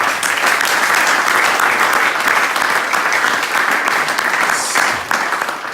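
A church congregation applauds together, a dense, steady wash of clapping that stays loud and continuous for several seconds before easing slightly at the end, with no voices standing out.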